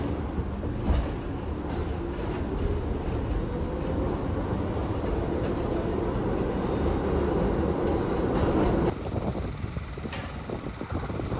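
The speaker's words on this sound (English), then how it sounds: "So this is really my first public transport in New York City on the subway." A New York City subway train riding along, with a steady loud rumble and wind-like rush throughout and a brief shift in tone near the end; no talking.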